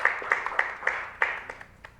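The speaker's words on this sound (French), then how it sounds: "On applaudit Marie-Ange." A small studio audience on a French TV show claps for an arriving guest: sparse, fairly rhythmic handclaps at moderate distance, fading toward the end.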